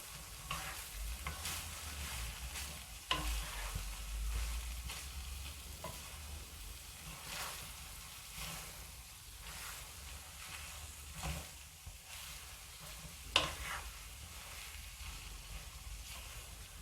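Onions frying in a pan while cooking a stuffed bitter gourd and minced meat dish, a steady soft sizzle with occasional stirring scrapes and a couple of sharper utensil knocks.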